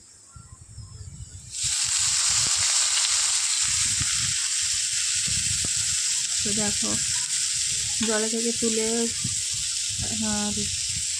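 Greens and potatoes fry loudly in a pan, a steady close sizzle that starts abruptly after a quiet moment, with a voice speaking over it.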